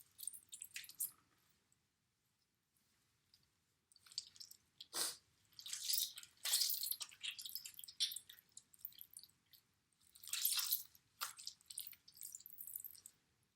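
Wet, squishy aloe pulp slides and drips into a bag in several bursts separated by near-silent pauses, close and moderately loud, with no talking.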